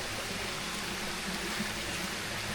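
A creek flows across farm property, a soft, constant wash of running water, faint and even, with no other sounds over it.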